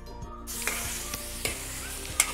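Spices, black pepper and yogurt sizzling steadily in a karahi for Karachi-style chicken karahi, with a few soft stirring scrapes and clinks over the continuous hiss.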